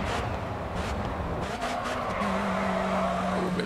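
Car tires skidding and squealing through a drift in the racing game Grid 2, a sustained screech over a steady engine roar, with the squeal rising in pitch toward the end.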